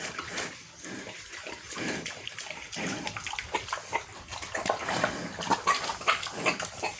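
A sow being dewormed on a farm, with grunting and snuffling close by, mixed with splashing water and general pen noise throughout.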